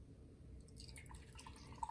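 Hard Mountain Dew Watermelon pouring from an opened can into a glass, a soft steady liquid trickle with light fizzing and a few drips, close and quiet throughout.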